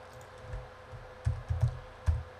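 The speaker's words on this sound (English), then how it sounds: "type in the web app title" A computer keyboard is typed on while a web app title is entered, giving a few soft, close key taps in uneven clusters over a low room hum.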